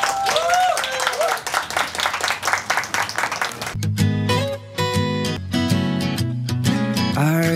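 An audience claps for a few seconds on a Korean TV music program, ahead of a singer's remake performance. Loud, dense applause mixed with scattered voices gives way abruptly to a band and singing.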